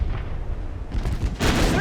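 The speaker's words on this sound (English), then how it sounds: "when those guns fire" Heavy naval guns of a battleship fire a broadside in the warship game Ultimate Admiral Dreadnoughts, a rumbling low boom building into a loud, sustained roar of several cannons over the final half second.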